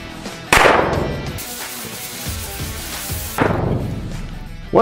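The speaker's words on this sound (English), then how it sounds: "One of the firecrackers just went off." Firecrackers set off in burning gasoline give two sharp, loud bangs about three seconds apart, each followed by a crackling hiss, with a rushing flame roar between them and a third burst starting at the very end.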